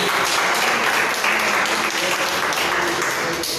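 Church congregation clapping in praise during a worship service, a loud, continuous burst of applause with voices mixed faintly underneath.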